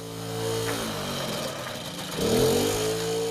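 An engine runs steadily at a moderate, fairly close level, then revs up briefly and settles back into a steady hum.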